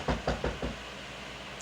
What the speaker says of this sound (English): Somebody's knocking on the door.